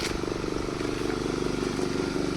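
Power tiller plowing a farm field in the Konkan countryside, a close, loud single-cylinder engine chugging with a rapid regular pulse and faint clatter, running steadily throughout without voices.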